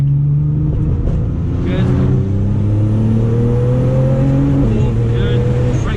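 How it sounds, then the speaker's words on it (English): A Nissan GTR accelerating hard out of a corner on a drift track, turbo lag giving way to a loud, close engine roar that climbs through the revs with gear-change steps, while a voice briefly speaks over it. "Flat on the accelerator, got to overcome all of that lag."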